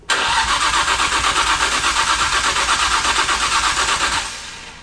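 A Nissan R34 GTR engine cranks and fires on its first start, catching abruptly into a loud, rough, steady run before being cut off and fading near the end, close and without voices.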